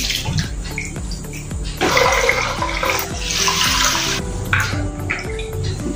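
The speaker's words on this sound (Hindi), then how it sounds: "ये भी पानी को हम निकाल देंगे" Water poured off washed rice in a container while preparing rice papads, a close gurgling, splashing pour that surges in the middle and continues with sloshing and trickling to the end, with no talking.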